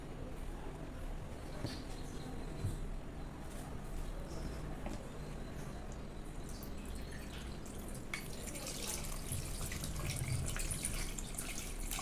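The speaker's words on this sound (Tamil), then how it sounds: "தண்ணி சேர்த்துக்கலாம்." Water poured into a pressure cooker holding half a kilo of mutton for a mutton kuzhambu: a steady, close wash of running and dripping water with no talking, growing slightly louder and brighter toward the end.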